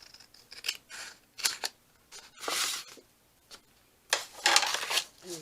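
Scissors slicing through paper for a junk journal, several separate crisp snipping strokes with pauses between, the last cuts longer and louder, close up.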